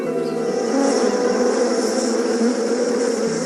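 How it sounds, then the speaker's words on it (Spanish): Honeybees buzz in a steady, loud, continuous drone that holds evenly without pause, with no talking. "Si la abeja avanza zumbando, está indicando la dirección con respecto al sol de un bosque pequeño más lejano."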